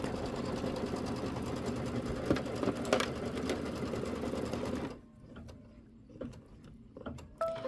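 An embroidery machine stitches a tack-down stitch on a hoop, a fast mechanical rattle that runs close and loud for about five seconds, then stops, leaving light clicks and handling noises.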